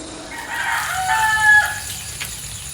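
A rooster crows nearby, a rising drawn-out call, with hens clucking around it on a village homestead in Kerala, and no one talking.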